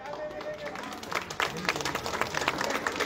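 Crowd applause rises at a political rally, with clapping swelling and continuing under a speaker's amplified voice.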